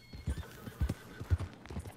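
Horses in Red Dead Online gallop close by in heavy rhythmic hoofbeats, with whinnies and snorting breaths layered over the pounding.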